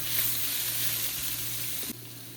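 Capsicum sizzling steadily in a hot pan for street-style veg Hakka noodles, a close, even hiss with a low hum beneath that drops slightly near the end.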